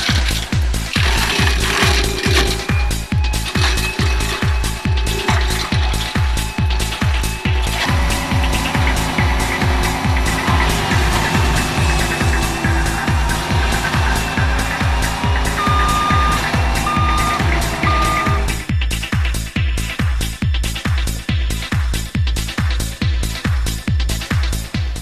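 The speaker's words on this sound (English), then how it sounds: "First up, we have the land clearing attachment." Gehl skid loader running a land clearing attachment in forestry work, a loud, fast mechanical chatter of rapid repeated impacts with a steady engine roar underneath and a beeping tone partway through.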